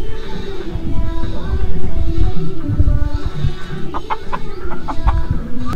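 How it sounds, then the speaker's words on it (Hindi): Desi chickens cluck close by amid a busy farmyard din, with scattered sharp calls over a steady rumble of background noise. "देसी मुर्गी"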